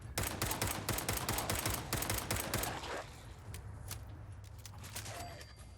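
Rapid gunfire fills the first three seconds of a Fallout 4 fight against ghouls, followed by a few scattered shots over quieter game ambience.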